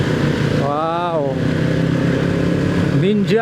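Ninja motorcycle passing on a morning street in Kelapa Gading, Jakarta, a steady engine drone with a rising and falling rev, under someone talking close by.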